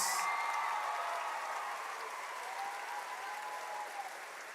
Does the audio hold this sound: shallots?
no